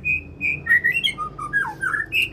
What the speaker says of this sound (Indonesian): murai batu ini juga kembali ngurak ya.